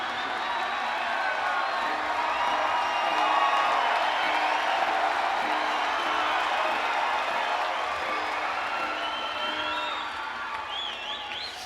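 Live rock concert crowd in Saratoga Springs, clapping along out of time, with dense cheering and whoops forming a loud, continuous wash of audience noise throughout.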